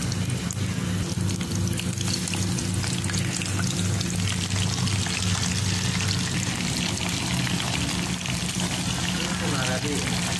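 Chicken liver frying in a pan gives a steady, dense sizzle and crackle throughout, close and loud, with a persistent low hum beneath and occasional stirring scrapes.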